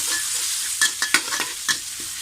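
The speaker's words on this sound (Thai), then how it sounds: "ผัดหมูกระเทียมพริกไทยนะคะ" Pork fries in a hot pan with pounded garlic, pepper and coriander-root paste, a bright steady sizzle broken by a few quick scraping stirs of a utensil, close up.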